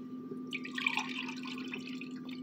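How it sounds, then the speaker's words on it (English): Kool-Aid drink poured back and forth between containers, a soft, steady trickle and splash of liquid that picks up after a moment and keeps running at close range, with a low background hum underneath. "Sometimes I'll do this, I'll pour it back and forth"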